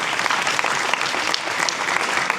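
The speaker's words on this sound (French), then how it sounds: "On peut les applaudir." An audience at a forum on reindustrialisation applauds continuously, a dense steady patter of many hands heard on its own.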